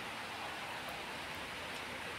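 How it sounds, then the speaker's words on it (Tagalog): Light rain and drizzle fall steadily outdoors in Hong Kong as Super Typhoon Ragasa approaches, a soft, even hiss with no talk. "Kaya ng panahon ngayon, medyo umuulan-ulan na rin, umaambon-ambon."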